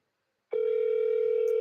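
A steady telephone tone sounds on an outgoing call to a senator's office, starting abruptly after a short silence and holding without a break, close and clear.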